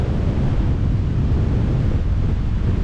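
Cold wind buffets the microphone outdoors in Valletta, Malta, a loud, steady low rumble running without a break and with no one speaking.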